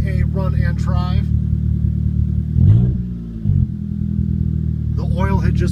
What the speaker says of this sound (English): muffler's ripped off, which is why it's a little throaty